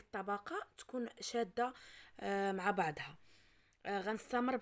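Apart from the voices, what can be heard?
No everyday noise stands out behind the speech.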